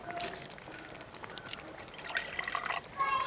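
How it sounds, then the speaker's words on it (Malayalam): Water poured into a pot of chicken and ash gourd curry, a steady trickling pour that grows a little louder toward the end, close by with no talk. "അപ്പോൾ ഞാൻ കുറച്ചൊക്കെ വെള്ളം ഒഴിച്ചു കൊടുക്കുകയാണേ"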